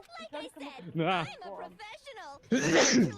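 At the end of a stretch of casual talk by a gamer on a Halloween livestream, one loud, close sneeze bursts out.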